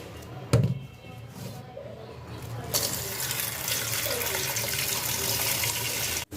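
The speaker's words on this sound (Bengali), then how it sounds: "গরুর মাংস এখন এই যে ভিজিয়ে রাখবো পানিতে" Tap water gushes steadily into a vessel to soak raw beef, starting a few seconds in after a brief knock and running close and continuous to the end.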